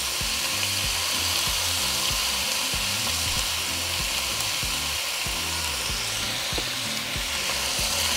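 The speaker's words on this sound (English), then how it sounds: "once oil is hot, we're going to throw in our onion. Along with our potatoes" Onion and potatoes seasoned with all-purpose seasoning frying in hot oil, giving a loud, steady, continuous sizzle from start to finish with occasional stirring.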